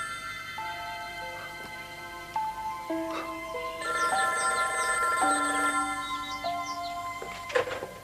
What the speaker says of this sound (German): Brick geht nicht ans Telefon.